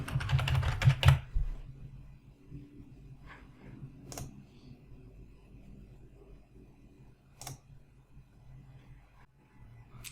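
Fingers tap out a short search on a computer keyboard in a quiet room, a few keystrokes in a quick burst followed by sparse single clicks.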